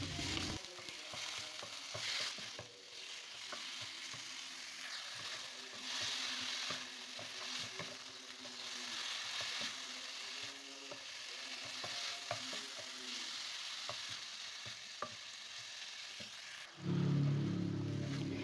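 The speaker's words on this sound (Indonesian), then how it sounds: "kita tumis lagi ya ayam dan bumbunya sampai ayamnya berair lalu kering kembali" Steady sizzling from a hot pan as chicken and spices are stir-fried, with a spatula repeatedly scraping and stirring, continuous and close, ending with a brief clatter.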